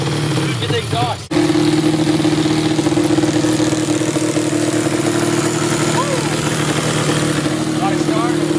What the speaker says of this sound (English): Got it started.